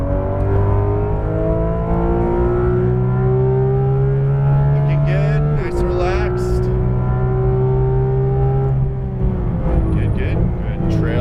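Porsche 991.2 GT3 RS on a racetrack, engine pulling hard at full throttle out of a corner, a steady loud rising roar with a brief lift and shift midway, then climbing again, with an instructor talking over it.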